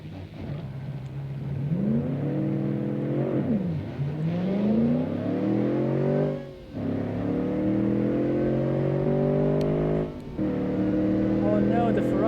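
Ferrari F355 engine in a racing video game, rising through repeated revving gear pulls with brief drops at each shift, loud and steady, with a second car's engine mixed in.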